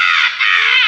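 A person imitating a crow's caw with their voice, one harsh, nasal, sustained call lasting under a second, loud and close.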